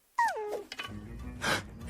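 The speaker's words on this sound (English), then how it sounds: "You're not gonna shoot a puppy, are you, Jack?" A puppy whimpers in an animated film, a single high, falling whine followed by a few brief yips and soft rustling, close and faint.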